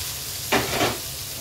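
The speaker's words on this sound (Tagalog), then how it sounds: "igisa-gisa lang natin yan hanggang sa maglanta na siya" Ginger and tomatoes tossed into a hot pan for sautéing, giving a brief loud sizzle and hiss that flares twice in quick succession before settling back to a low background hum.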